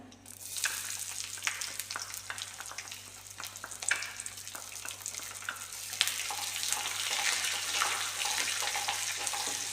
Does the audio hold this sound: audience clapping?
no